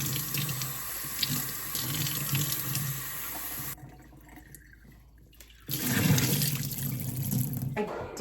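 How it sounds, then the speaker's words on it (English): Tap water runs steadily into a sink while sprouting seeds are rinsed. The flow cuts off briefly in the middle, then returns with a louder splashing rush. "so let's rinse and redistribute, and then we'll be done for today."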